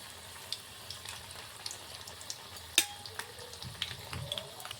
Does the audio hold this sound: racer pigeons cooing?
no